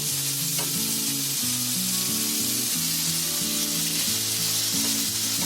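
Mandeli fish frying in oil in a pan over a low gas flame, being flipped. A loud, continuous sizzle runs throughout, broken by a couple of soft clicks as the pieces are turned.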